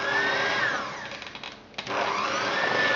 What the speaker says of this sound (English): just slowly whisk this and it will start to come together